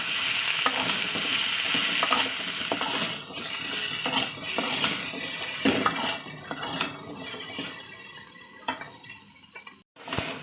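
Fish and potatoes with drumsticks, salt and turmeric powder sautéing in a pan, a steady close sizzle under repeated scraping stirs and light clinks of a spoon against the metal, with no talk.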